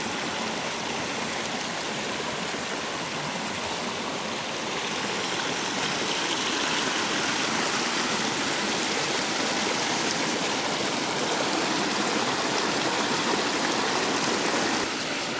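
A stream of water rushing over rocks near an off-grid homestead, a loud, dense, continuous roar that stays steady and close throughout with no voices.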